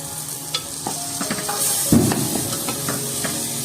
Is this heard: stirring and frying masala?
yes